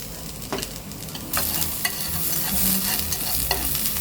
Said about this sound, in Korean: 그 다음에 당근 볶을게요.